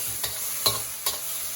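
Shrimp stir-frying in a pan with tomato ketchup and sweet-and-spicy sauce for Sri Lankan devilled prawns: a continuous close sizzle marked by three quick scraping stirs of the spatula.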